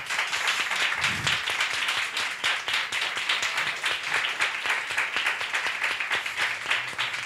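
A book fair audience claps for two guest authors, a dense, even stretch of applause from a moderately sized crowd that keeps going at a steady level throughout.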